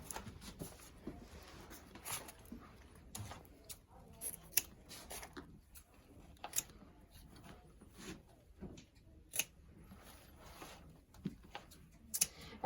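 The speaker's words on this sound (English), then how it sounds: "So I'm going to hang it back up to cut those tails." Scissors snip ribbon tails on a bumble bee hive door hanger, making faint scattered clicks and crisp cuts with short pauses between them in a quiet room.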